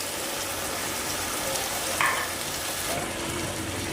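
Pork liver stew (igado) with soy sauce sizzling in a pan as water is added, a steady broadband frying hiss with a brief louder splash partway through and the sizzle settling afterward.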